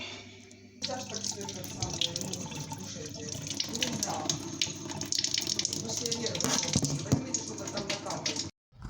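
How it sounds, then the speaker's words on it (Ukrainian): Water runs from the tap of a reverse osmosis filter into a sink, a steady close splashing stream that starts abruptly and stops near the end, with a person talking over it. "И сейчас побежит немножко с крана."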